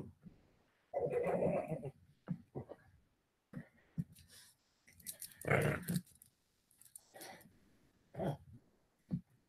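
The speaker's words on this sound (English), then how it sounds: "That's a mean dog I got" A dog growls and grumbles at close range in uneven bursts, with short rough snarls separated by brief silences.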